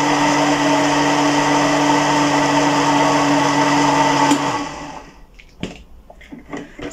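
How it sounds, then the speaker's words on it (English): A kitchen blender blending thick porridge (uji) runs loud and steady with a strained whine, then spins down and stops, leaving light clinks and handling sounds. "don't overload your blender"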